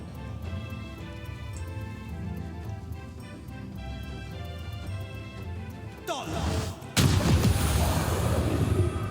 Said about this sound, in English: Just got 1 Eldritch Blast in